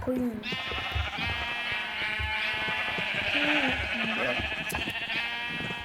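White sheep bleat repeatedly in a game, with wavering tonal calls over a busy background of music and game sounds.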